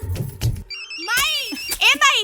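A telephone rings at home, giving a few short electronic trills after brief talk, close and clear between spoken words.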